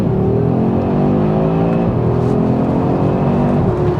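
A new Audi RS3 hot hatch engine accelerates hard and loud, its steady roaring tone climbing continuously for about four seconds, with no talking.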